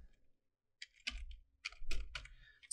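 Quiet keystrokes on a computer keyboard as a command is typed into a Windows command prompt, coming as a short burst of several clicks followed by a few more taps, faint and close with no talking.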